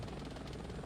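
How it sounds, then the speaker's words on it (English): A Bell 412 helicopter flying in the X-Plane 11 simulator gives off a continuous rotor thrum with rhythmic blade pulses over a broad engine roar, steady and fairly quiet, with no talk. "Yes, I am flying a helicopter with a"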